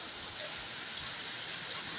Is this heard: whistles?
no